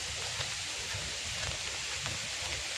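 Steady rain pours down in a continuous hiss outdoors on a commuter's walk to work, with scattered louder drops and splashes against a dense, even wash of falling water and no voices.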